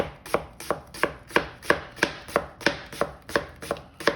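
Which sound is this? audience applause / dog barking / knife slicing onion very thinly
knife slicing onion very thinly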